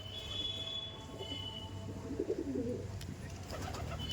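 Soft, low cooing of flying pigeons in a loft repeats faintly against a steady background hum, with a few light clicks and knocks near the end.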